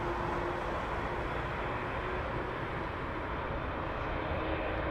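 A steady, fairly distant engine drone rises from an airplane taxiing at Heathrow Airport, a continuous low rumble with no voices over it.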